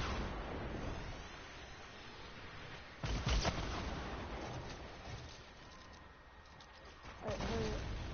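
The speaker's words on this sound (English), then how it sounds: "I'm gonna have to rocket launch you." Rocket launcher fire in a video game, a sharp blast around three seconds in and another near the end over a rumbling game background, with a voice talking.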